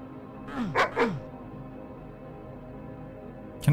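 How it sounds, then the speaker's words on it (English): A dog in the DOOM map My House.WAD gives two quick, close barks, then falls quiet, leaving a faint hum. "What the dog doing?"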